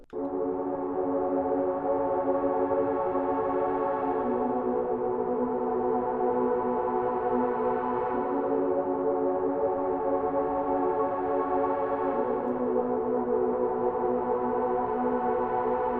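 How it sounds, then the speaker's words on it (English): Ambient plugg beat main chords built from VST synth presets: soft, sustained, layered pad tones playing just two chords that alternate roughly every four seconds, steady and alone with no voices. "we have the main chords, which are going to sound like this"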